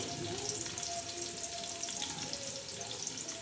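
Onion and curry leaves fry in hot oil with a steady, soft crackling sizzle that holds at an even level throughout, no voices.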